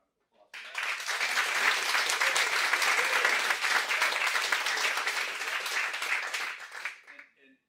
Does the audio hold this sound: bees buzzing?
no